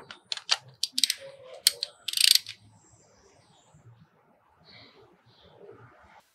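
Small metal part being screwed by hand into a Bendix Zenith carburetor from a 1973 Harley-Davidson Sportster XLH during a rebuild, heard as close sharp clicks and scraping bursts, then quieter faint fiddling, no talking.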